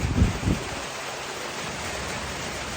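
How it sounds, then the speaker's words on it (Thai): Steady rain falls outdoors as a dense, even hiss throughout, fairly loud and close, with a couple of brief low thumps at the start and no speech. "ฝนตกข้ามครับ พี่น้อง ฝนตกครับผม"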